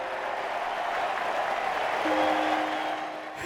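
A large golf gallery at The Open, Royal Lytham & St Annes, roars and applauds after a winning putt, a sustained loud wash of cheering that swells, holds, then fades near the end.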